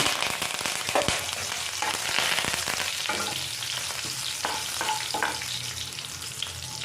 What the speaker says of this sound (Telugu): ఇప్పుడు దీంట్లోకి మనం కరివేపాకు వేస్తున్నాం